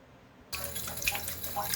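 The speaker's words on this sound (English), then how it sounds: "I'm flushing this section here to kind of cleanse the little hole there" Water suddenly rushes through a toilet valve section during a repair, a steady splashing flow with small drips and gurgles that starts abruptly after a near-silent moment.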